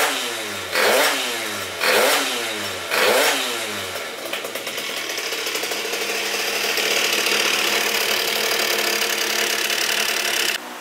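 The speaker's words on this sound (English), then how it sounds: "Got a little too excited there revving this thing up" A Phantom F12 70cc scooter engine revs hard three times in quick succession, then settles into a loud, raspy high idle, with the noisy carburetor intake dominating at close range; no speech.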